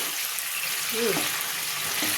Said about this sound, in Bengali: হালকা ভেজে নিই